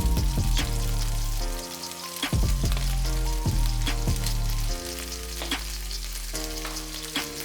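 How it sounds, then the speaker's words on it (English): Doubanjiang chili bean paste sizzles steadily in hot oil while being sautéed for mapo tofu, a dense, close frying crackle with repeated sharp clicks and scrapes of stirring throughout. "Now saute the doubanjiang for a while until your oil turns a deep"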